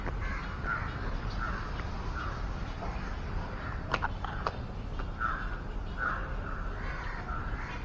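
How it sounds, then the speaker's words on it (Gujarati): Crows caw in a nature park in Sarthana, Surat. Short calls repeat at a moderate distance over a steady outdoor background hum, with a couple of brief clicks midway. "આમાં તો કાગડા રખડે છે"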